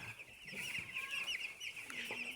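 Broiler chickens cluck and chatter nonstop in a poultry house, a dense flock sound with scattered sharper calls rising over a steady bed of peeping.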